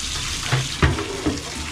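Hot water running from a tap into a bucket for washing a dirty car, a steady hiss of flow with a few brief splashes and knocks, close by with no talk.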